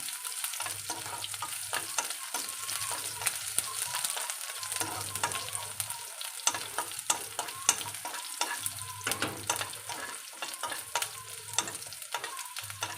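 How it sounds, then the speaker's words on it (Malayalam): Onions and popped mustard seeds frying in a pan for tomato curry, a continuous soft sizzle broken by frequent spatula scrapes and taps, close and fairly quiet, no speech. "ഇനി ഈ ഉള്ളി കടുവെല്ലാം പൊട്ടിയിട്ടുണ്ട് ഇനി ഉള്ളി ഒന്ന് നന്നായിട്ടൊന്ന് മൂത്ത് വരണം"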